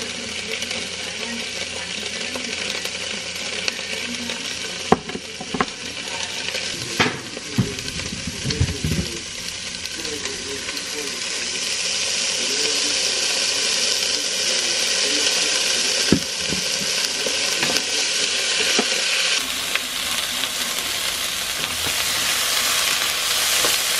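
Onion and garlic fry in a pan with a steady, bright sizzle, broken by occasional clinks and scrapes of stirring; the hiss grows fuller later on, with a little speech underneath.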